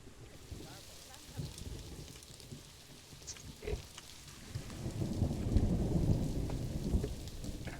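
A rainstorm in the video game Planet Zoo brings steady rain with low thunder rumbles, faint at first and then swelling into a louder, heavier downpour.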